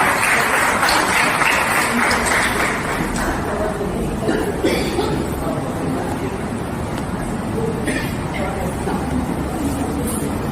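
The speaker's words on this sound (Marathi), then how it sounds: "आबांसाठी सुद्धा जोरदार टाळ्या." Loud, sustained applause from a crowd at a senior citizens' association gathering, honouring Aba Nadkarni, the group's eldest member; the dense clapping runs steadily for the full ten seconds with a few coughs and murmurs mixed in.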